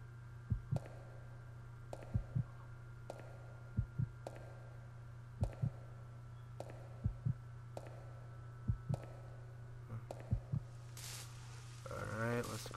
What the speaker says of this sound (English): Legendary heartbeat.